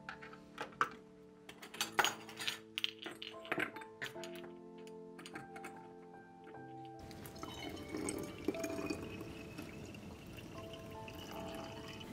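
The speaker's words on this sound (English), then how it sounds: "pour the liquid into the bottle" Liquid pours steadily into a bottle after a run of clinks and drips from tools and glassware, all quiet and close.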